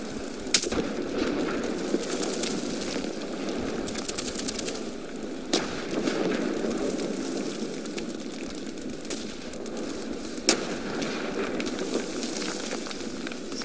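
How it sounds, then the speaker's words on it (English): Gunfire and explosions in the War Thunder tank game with a British Stuart I, a crackling steady wash of distant fire broken by a few sharp, louder bangs. "So many explosions."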